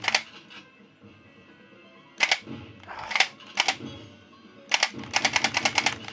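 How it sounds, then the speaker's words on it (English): Gunfire aimed at rats in the arcade shooter Maximum Force, sharp clicky shots in short bursts: a few single pops, then clusters and a rapid rattling volley near the end, with quiet gaps between. "I'm shooting the rat"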